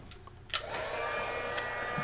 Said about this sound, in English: I'm going to let my heat tool warm up a smidge